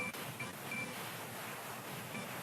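Soft, steady ocean surf hisses faintly and evenly, with no voices over it.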